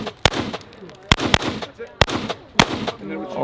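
Gunshots from a handgun fired at a shooting range, four sharp loud reports spaced about a second apart, each with a ringing echo tail, with faint voices murmuring between shots.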